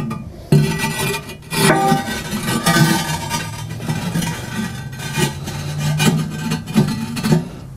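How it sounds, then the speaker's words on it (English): Ceramic fire ring being set down onto the firebox of a Kamado Joe grill, giving a scraping, grinding rub of ceramic on ceramic with a few knocks, close and fairly loud. "And then we will follow that by setting the fire ring right on top of the firebox."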